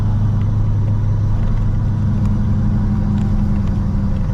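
A 1987 Monte Carlo SS with EFI throttle idles steadily up close, a deep continuous engine rumble with no revving and no voices.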